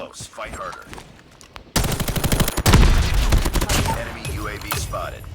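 Rapid automatic gunfire from the mobile shooter Call of Duty Mobile, loud dense bursts that break out suddenly and continue in rattling volleys, with someone talking over parts of it.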